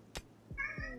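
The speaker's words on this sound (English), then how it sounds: "Apologies for the meowing." A cat meows twice in quick succession, close and fairly loud, with a brief faint sound just before; no talking during the cries.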